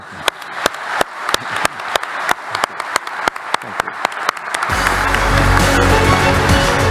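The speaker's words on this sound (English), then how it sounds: "We should be very generous with our applause." At a youth forum, one pair of hands claps loudly in a brisk, even beat about three times a second, then a whole crowd joins in with dense, continuous applause that fills the room.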